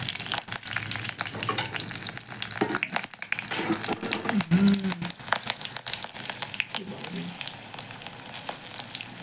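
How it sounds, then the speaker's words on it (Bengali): Nigella seeds and green chilli tempering in hot oil while water lily stems are cooked, a busy continuous sizzle with crackles, stirring and clattering utensil knocks throughout. "আমি আবার একটু কালো জিরে ফোড়ন, তারপরে দেব একটু কাঁচা লঙ্কা"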